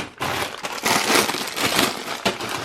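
Plastic bags of Lego City Deep Space Rocket parts being handled, a dense, continuous close crinkling and rustling with a few sharper crackles.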